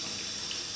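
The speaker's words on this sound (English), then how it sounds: "So I've got a sieve here, so just run it underneath a tap, cold water" Cold tap water runs steadily over herbs in a sieve, a soft continuous hiss and splash, quiet and unbroken for the brief moment.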